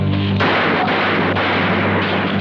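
Gunfire in an old action movie: a loud, sharp shot bursts out after a brief lead-in, then sustained heavy booming noise fills the rest, close and dominant with no voices.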